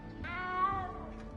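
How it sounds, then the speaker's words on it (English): A cat meows once in a drawn-out, tonal cry inside the video game Hogwarts Legacy, heard close and clear over a low ambient background, with no talking. "You don't need to be frightened, little cat."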